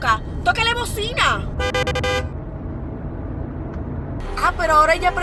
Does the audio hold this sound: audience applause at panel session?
no